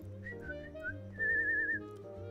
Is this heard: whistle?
yes